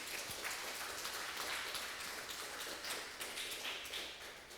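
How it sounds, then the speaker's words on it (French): Audience at a public health lecture applauding, a soft, even spread of many hands clapping, fairly distant and faint, fading slightly toward the end. "Je voudrais que vous les applaudissiez."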